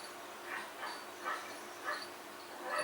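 Cartoon puppy dog from a Noddy episode yipping and whimpering in a few short, high-pitched bursts spaced about half a second apart, fairly faint and with no talk over them.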